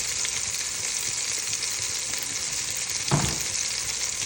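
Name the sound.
beef braciole searing in a hot pan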